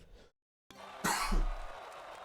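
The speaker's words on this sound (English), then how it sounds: "Sorry, a little cough." A single short cough close to the microphone, after a brief silence, followed by faint background noise.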